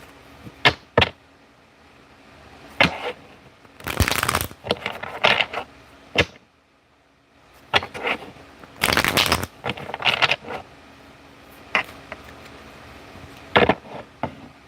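Tarot cards are shuffled in bursts of riffling and slapping, close and crisp, with pauses and scattered taps between rounds in a quiet room.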